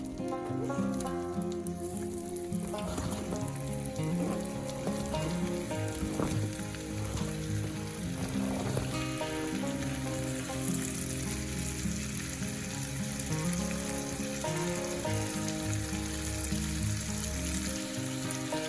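Pear slices fry in bubbling melted butter in a pan, giving a soft, steady sizzle that crackles continuously at a low level throughout.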